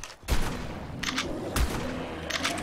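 Shotgun blasts in ARK: Survival Evolved, fired at a dire bear: three loud, close booming shots about half a second to a second apart, each trailing a rattling echo, with no talking over them.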